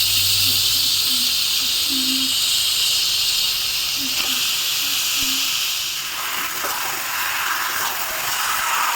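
Chicken pieces with turmeric in a hot pan give off a continuous loud hiss and sizzle for nine seconds, with a few faint scraping or stirring touches partway through.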